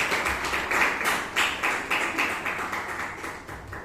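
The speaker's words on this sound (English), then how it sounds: "Give a big round of applause for Sahana" Clapping at a Toastmasters club meeting in Bangalore for a member, a small group's fairly rhythmic claps, moderately close, steady for a few seconds and fading slightly toward the end.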